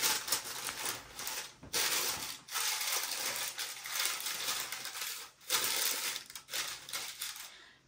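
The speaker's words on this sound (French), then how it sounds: "Désolée pour les bruits de papier." Paper rustling and crinkling as bread dough is set flat into a cast-iron cocotte, a continuous close crackle with a few brief pauses and no speech.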